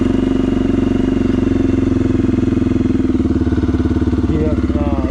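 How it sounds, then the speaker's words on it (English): A motorcycle engine idles steadily and loudly up close, with an even, throbbing low rumble that holds for five seconds. A faint voice may come in near the end. "And then now next thing we will do is turn on the bike."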